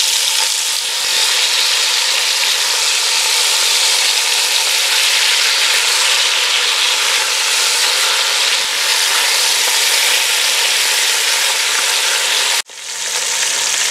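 Pork belly sizzles steadily in a hot pan after being turned, a dense continuous frying hiss that holds for most of the clip before a sudden cut to quieter sizzling near the end.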